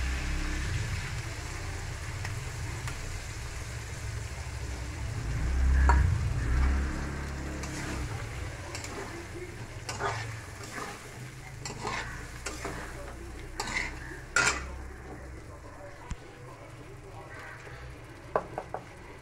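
A cauliflower and potato curry, made with green and white cauliflower plus cumin-ginger paste, fries in a pan with a steady sizzle while a spoon stirs and scrapes, and occasional louder utensil knocks rise above it.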